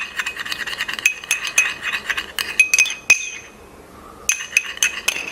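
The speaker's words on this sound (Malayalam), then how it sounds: "അതുകൂടി ഇട്ട് കൊടുത്തതിന് ശേഷം നന്നായിട്ടൊന്ന് മിക്സ് ചെയ്യുക" A spoon stirring a corn flour and aloe vera face pack in a small glass bowl, with quick clinking taps and scraping in irregular bursts, close and fairly loud, with a brief pause before the mixing resumes.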